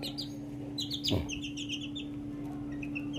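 Boston Brownhead and White Kelso chickens in a barn give repeated high chirps and short calls over a steady hum, with one louder clucking burst near the middle.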